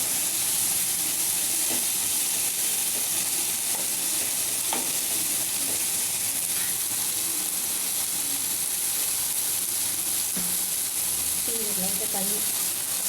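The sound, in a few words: capsicum sautéing and stirring in a pan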